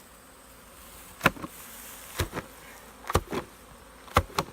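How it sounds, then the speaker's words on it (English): Honey bees buzz in a steady, faint drone around a hive frame at a treatment-free apiary in Wisconsin, broken by several dull thumps as the frame is knocked to shake bees off. "Still a lot of bees"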